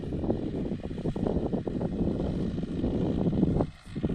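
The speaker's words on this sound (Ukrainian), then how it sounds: "Трактору важко, он димить, пихтить, ну йде." A tractor strains and puffs smoke while ploughing heavy, lumpy clods and lurching side to side, giving a steady, loud, close engine rumble throughout with no voices.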